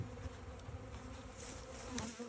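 Honey bees buzzing around a hive being checked before winter, a steady close-up drone with individual bees swelling and passing near the microphone, quiet and without speech.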